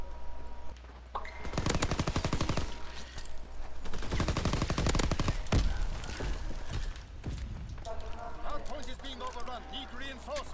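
Rapid gunfire in Call of Duty WWII: dense, loud automatic bursts fire in clusters, some quicker single shots follow, and voices talk over the shooting in a busy multiplayer match.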